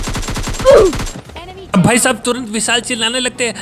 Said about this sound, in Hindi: अब पीछे से भी गोली की आवाज आ रही होती है